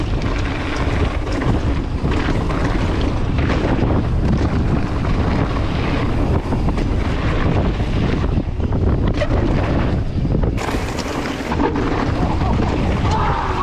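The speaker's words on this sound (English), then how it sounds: "Oh, it's well windy, man." Strong wind at a bike park roars and buffets the microphone continuously, loud and steady throughout, with faint water and boat sounds beneath.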